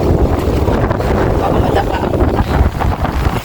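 Strong wind buffets the microphone on a walk by the sea in Chania, Crete in summer, a constant loud roaring rumble with gusty swells, alone with no clear talk.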